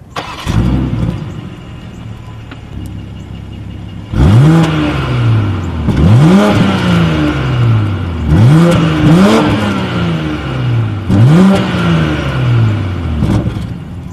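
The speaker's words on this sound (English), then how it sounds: "As always, here is that exhaust clip." A 2019 BMW X5 with dual chrome-tipped exhaust outlets starts and idles, then is revved five times in quick throttle blips, each rising sharply and falling back, loud and close with no talking.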